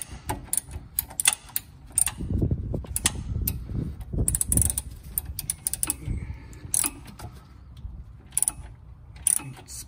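A ratchet wrench breaks loose and turns a 10mm nut on a Porsche Cayman rear suspension support clamp, giving close, quick clicking and ratcheting bursts mixed with dull metallic knocks and rattles.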